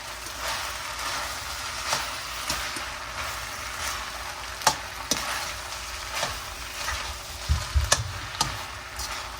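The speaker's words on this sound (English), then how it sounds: "So what I want to do is just stir this all up." Food sizzling steadily in a frying pan during home cooking, with occasional sharp scrapes and clicks of a utensil stirring it, close and continuous.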